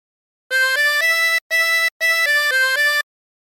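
Tremolo harmonica with 24 holes plays a bright, reedy phrase of Turkey in the Straw in three connected bursts of stepped notes separated by short breaths, clear and alone.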